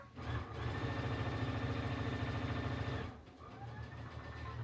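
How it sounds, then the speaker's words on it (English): A sewing machine stitches fabric in one steady burst of about two and a half seconds, a rapid rhythmic whirring thump. It stops abruptly, and a quieter hum continues afterward. "So let's go ahead and sew this together really quick."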